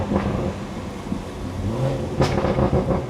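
Stage 2 tuned BMW B58 straight-six pulling during a drive, a close, throaty rumble that rises and swells as it accelerates, with no talking over it.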